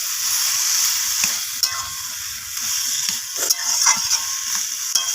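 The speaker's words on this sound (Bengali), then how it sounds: "এইভাবে ভালোভাবে নাড়াচাড়া করে খুন্তির সাহায্যে কচু শাকটাকে কষিয়ে নিতে হবে।" Taro leaves cooked down in oil with coconut are stirred with a metal spatula until their water dries off, making a bright, continuous sizzle broken by sharp scraping and clicking strokes against the pan.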